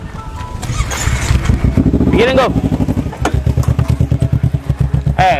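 A motorcycle is moved to the roadside with its engine running close by, a loud, rapid, pulsing putter that stays steady, with a brief spoken voice over it.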